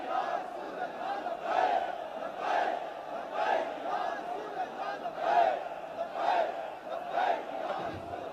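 A large crowd chants the takbeer slogan in rhythmic, repeated bursts roughly every second, many voices shouting together in a loud, reverberant swell that rises and falls without pause.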